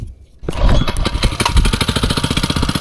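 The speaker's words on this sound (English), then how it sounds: "Now we're running with the choke." A small engine fed starting fluid catches at about half a second after a quiet lead-in, then keeps running on choke with a loud, steady, rapid rhythmic putter that continues to the end.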